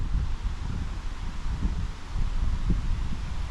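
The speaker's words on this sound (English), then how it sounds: "now it seems like there's a cold wind coming through" A cold wind blows at Point Iroquois lighthouse on Whitefish Bay, making a steady, close rushing and buffeting noise with low gusty rumbles against the microphone, with no voices.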